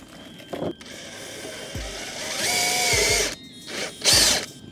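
A power drill whirs in several short bursts, rising in pitch as it drives a bolt on a Nissan 370Z front lip, with knocks and clicks between runs.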